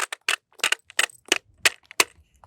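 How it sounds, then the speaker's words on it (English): An old South African polymer magazine for the R4 rifle spills cartridges, giving a scattered series of sharp, close metallic clicks and clatters with short gaps between them. "This is one of the old South African mags that spill ammo."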